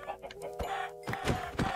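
Minecraft chickens cluck in short, repeated bursts over a busy game soundscape, with a steady tone running underneath and voice-like sounds mixed in.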